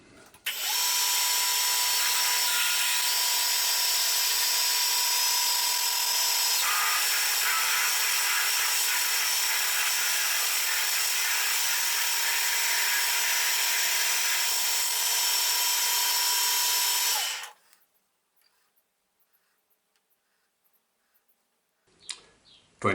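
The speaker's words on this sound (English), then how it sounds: "I'm not gonna use this drill bit to finish it, but I'm gonna pre-drill." A high-pitched power drill whines continuously for about seventeen seconds as its bit pre-drills into metal, then stops abruptly, leaving near silence with a faint clatter.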